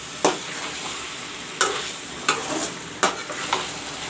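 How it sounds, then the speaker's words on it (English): Mutton browning with masalas in a pan for a curry, a steady low sizzle with a few sharp stirring knocks and scrapes spaced through it, close and moderately loud, no talking. "Friends, the mutton is being browned with the masalas."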